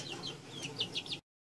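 Hens clucking near a rooster on a farm: soft, high, quick clucks and chirps repeat over a low background murmur, then cut off abruptly.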